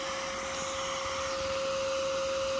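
Vacuum cleaner drawing wasps out of a nest, a loud steady whine with a constant high motor tone, close and unbroken for the whole stretch.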